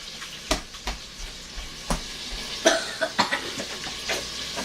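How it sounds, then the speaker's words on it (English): Sausage hits melted butter in a pan and sizzles, with intermittent scraping stir strokes and brief crackling pops in a home Cajun cooking setup. "Our butter is melted, so Taylor, go ahead and grab your sausage there and dump them on in there, baby"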